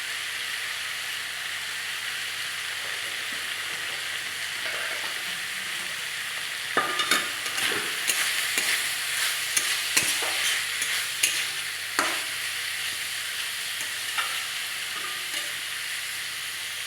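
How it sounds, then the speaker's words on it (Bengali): Shrimp sauté with banana flower in a pan for Bengali mocha chingri, a continuous sizzle and hiss joined by intermittent scraping stirs in the later part. "চিংড়ি মাছটা দিয়ে কিছুক্ষণ একটু আবার কষিয়ে নেব।"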